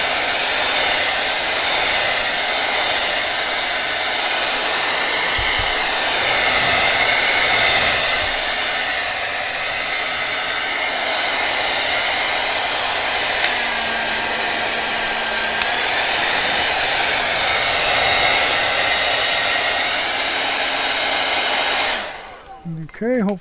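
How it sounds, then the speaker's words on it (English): A hair dryer blows loudly and steadily, nearby and uninterrupted for a long stretch, then cuts off abruptly at the end. "I need to use my hair dryer."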